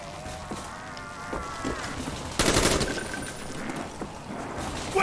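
Rapid gunfire in Black Ops Zombies on the Kino Der Toten map, a dense burst that bursts out suddenly midway and stays loud, with quieter game noise before it and no talk.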